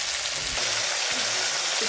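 Chopped tomatoes sizzle in hot oil tempered with black cumin, a steady close frying hiss with faint stirring clinks.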